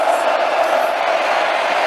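Stadium crowd at a college football game roars in a loud, sustained wall of cheering and shouting, with no break over the short stretch.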